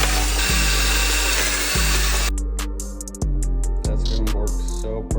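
Power drill driving bolts during a motorcycle-related build, a motor whining continuously and then stopping and restarting in short bursts, with sharp clicks and thumps between runs.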